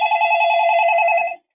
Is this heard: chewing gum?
no